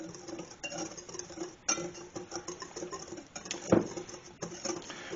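Sugar and cinnamon being stirred together in a bowl, light irregular scraping and ticking of a utensil against the dish, a few sharper clinks standing out, close and fairly quiet.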